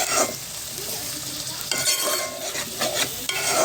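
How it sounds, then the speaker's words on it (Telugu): Tomato fries in a pan with a close, steady sizzle, broken by a few scraping stirs of a utensil against the pan, with no voices. "టమాటా వేసుకొని ఇది కూడా కొంచెం మగ్గే వరకు అయితే వీటిని అయితే ఫ్రై చేసుకుందాం"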